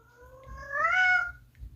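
A cat meows once to be let inside, a clear, rising and falling call close by, with faint background rumble and no talk.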